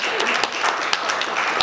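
Crowd applause at a World Economic Forum session, a dense steady patter of many hands with a few sharper claps standing out, near and sustained.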